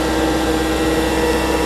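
A forklift's engine running steadily, a continuous loud mechanical hum and whir with no change in pitch or level throughout, unbroken by talk.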